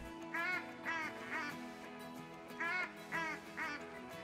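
Mallard ducks quack in the outdoors during a New England mountain duck hunt, several loud raspy quack series in two clusters, close and clear.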